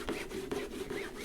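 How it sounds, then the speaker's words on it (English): Excess gold acrylic paint is wiped off a craft mat, giving quiet, rhythmic rubbing strokes, roughly four back-and-forth swipes close up. "I'm actually going to wipe the excess gold off here"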